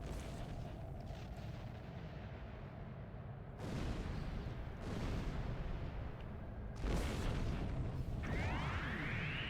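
Torpedo fire and explosions strike ships in a Star Trek Online space battle, with three heavy booming impacts building in loudness over a dense, continuous rumble of weapons fire, ending in a rising sweep.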